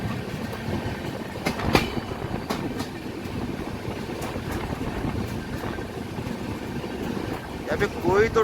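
A train pulling out of Mathura Junction, a steady rumbling roll with occasional sharp metallic clanks and a brief squeal near the end, close and continuous, with a voice speaking over it.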